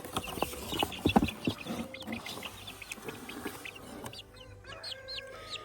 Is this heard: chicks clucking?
yes